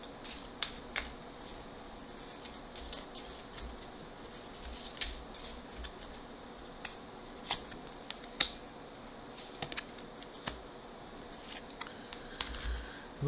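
Oracle cards for lovers are handled and drawn by hand, giving soft papery shuffles, slides and sharp little snaps scattered unevenly across the stretch, close and quiet, with no voice over them.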